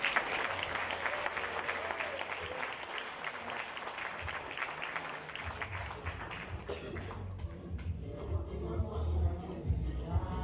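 An audience at a certificate ceremony claps in sustained, dense applause that fills the room. It thins toward the end, where a voice and some low background sound come through.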